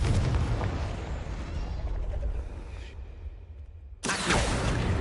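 Confringo fire spell bursting in Hogwarts Legacy, a loud explosive blast that rumbles and fades, then a second sharp burst near the end, with little else around it.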